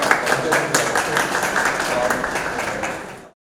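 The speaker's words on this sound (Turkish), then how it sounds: "Alkışlar eşliğinde makama çıkan Başkan Yücel" Crowd applause at a welcome ceremony as a mayor takes office at a Turkish municipal building, with council members and staff present. Dense, steady clapping runs for about three seconds, then stops abruptly.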